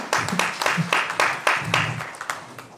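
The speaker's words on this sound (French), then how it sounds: "Je vous demande d'applaudir," Applause for an ambassador at a community event in Sevran, a modest audience clapping in loose, uneven bursts that are fairly close and taper off over about three seconds, with faint voices underneath.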